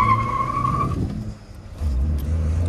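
Hyundai Santro on new Yokohama tyres accelerating hard, a rising engine tone with road and tyre noise, steady and fairly close, with no talk.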